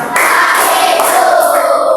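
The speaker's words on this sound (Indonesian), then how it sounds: "Tepuk satu, dua, tiga." A classroom of students claps together in a one-two-three pattern as an ice-breaker, a dense burst of many hands and voices filling the room for about two seconds.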